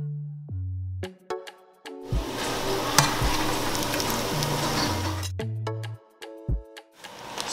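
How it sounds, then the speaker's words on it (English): Tomato paste frying and sizzling in a pan as part of a jollof rice base, a steady dense hiss through the middle of the clip with stirring and clattering at the start and end, close and fairly loud. "So now we're gonna add all the tomato paste into the frying mix."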